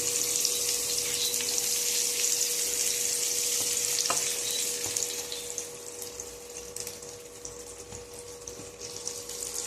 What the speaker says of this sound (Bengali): আমি এই তেলের মধ্যে পেঁয়াজগুলোকে কুচি করে রেখেছি, সেগুলোকে আমি ছেড়ে দিচ্ছি।